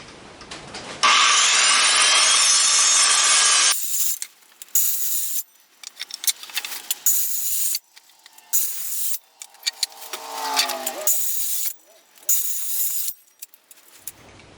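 A handsaw cuts through pallet wood used as a makeshift workbench, starting with a long steady run of close, loud strokes, then continuing in shorter choppy bursts with pauses between them.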